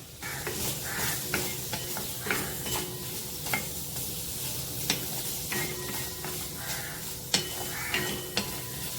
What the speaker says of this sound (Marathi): गॅसवर कढई ठेवली आहे त्याच्यात कांदा टाकायचा आहे लसूण आणि आलं पण टाकायचं आहे आणि छान भाजून घ्यायचा आहे कांदा